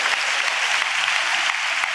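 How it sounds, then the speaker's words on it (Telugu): A church congregation claps in praise, a dense, even wash of many hands that stays steady and fairly loud for the whole stretch without a break. "చప్పట్లు కొడుతూ స్తోత్రాలు చెప్తా."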